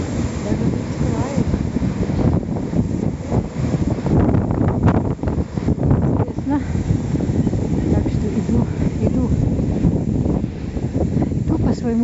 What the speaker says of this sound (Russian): Но слышите, вода как шумит.